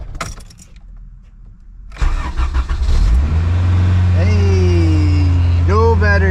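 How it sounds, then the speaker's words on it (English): A car with a freshly fitted alternator cranks briefly after a quiet moment, then its engine catches and settles into a steady idle, with a short rising whine and a revving blip near the end. "Now we are going to test start the car and hope that everything is good to go."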